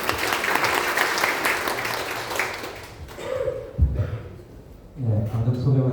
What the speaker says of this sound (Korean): 한참 박수 부탁드리겠습니다.